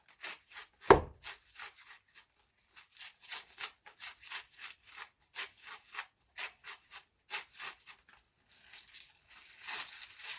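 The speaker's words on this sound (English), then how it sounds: "Just slice them in small pieces." Garden vegetables being sliced into small pieces, a steady series of short crisp cuts in an uneven rhythm, close and clear, with one louder thump near the start and no talking.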